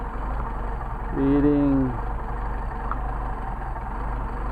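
A Mercedes 190SL engine with Solex carburetors idles steadily at close range, a continuous low rumble with someone speaking briefly over it partway through.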